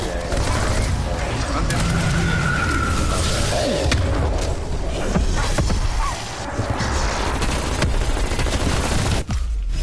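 Rapid automatic fire from the FFAR assault rifle in a Call of Duty Zombies match, loud dense bursts running almost continuously over other game noise, ending with a short gap near the end.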